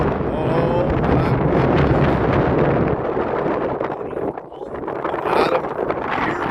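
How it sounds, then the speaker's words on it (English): Strong outdoor wind buffets the microphone in a loud, continuous rumble with gusts during magnet fishing, with no clear talk over it. "wind's blowing."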